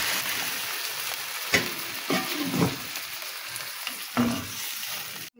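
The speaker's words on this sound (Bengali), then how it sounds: "আলুটা ভালো করে ভেজে নিতে হবে।" Potatoes frying in hot oil for a chanda fish curry, a steady close sizzle broken by a few louder scrapes and stirs of a spatula in the pan, with no talking.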